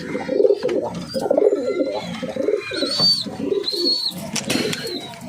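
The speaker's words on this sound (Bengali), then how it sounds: "প্রথম তো অ্যাডাল্ট পায়রা" Several pigeons coo continuously in overlapping low warbles, close and fairly loud, with occasional thin high chirps above.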